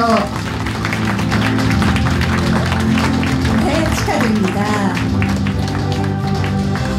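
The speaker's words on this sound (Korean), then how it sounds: "특별상 수상자에게 여러분 다시 한번 뜨거운 축하의 박수 보내주십시오" Applause rises for special-prize winners at the 33rd Buddhist Press Culture Awards ceremony. The clapping sits under a host's speaking voice and background music, moderately loud and steady.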